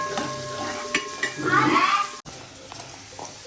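Bay leaf and whole spices such as cardamom stirred and sizzling in a hot pan for a village-style chicken curry, steady frying hiss with utensil scraping and a brief clatter, under faint background voices.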